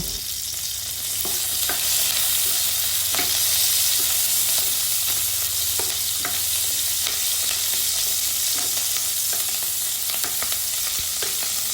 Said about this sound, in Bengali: এখন একটা প্যানে তেল গরম করে তার মধ্যে দিয়ে দেব পরিমাণ মতো আস্ত কাঁচা মরিচ ও রসুনের কোয়া। এগুলো আমি ভালোভাবে ভেজে নেব।